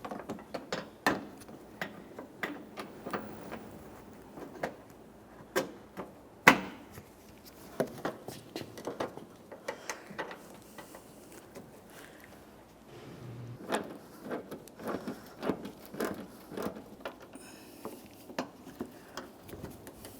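A hand ratchet tightens the bumper bracket mounting bolts on a Toyota Sienna, making a quiet run of rapid clicking bursts with short pauses between strokes and no talk.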